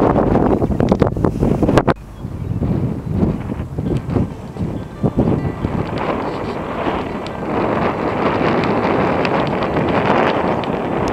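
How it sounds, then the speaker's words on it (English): Strong wind buffets the microphone in loud, rumbling gusts that continue throughout, with a few sharp knocks early on, during a stop on a Harley-Davidson Road Glide ride. "it's windy here"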